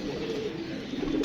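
A pigeon coos softly with low, throaty, rolling notes, fairly faint and continuous against quiet background noise.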